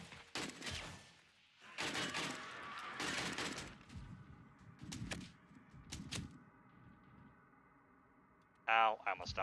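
Several loud, separate shotgun blasts ring out in a modded video game, bunched near the start and then spaced apart, with a voice speaking between them.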